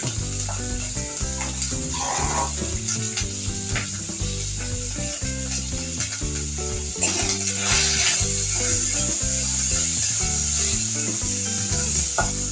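Tomato and salt sizzle in a pan of spicy chela fish curry, a steady close frying hiss with occasional stirring scrapes and a tonal layer beneath.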